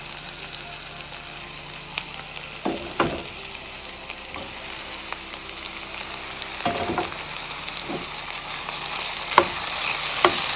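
Tomatoes frying with frozen vegetables for samba rava upma, a continuous hiss of sizzling oil with occasional scrapes and knocks of a stirring spoon against the pan, close and without speech.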